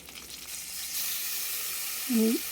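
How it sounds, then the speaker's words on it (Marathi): Curry leaves and a green chilli drop into hot oil with garlic and set off a bright, hissing sizzle that rises and holds, ending with a short tonal squeak near the close. "कढीपत्ता एक मिरची टाकून घ्यायची लाल सबन हिरवी मिरची एक"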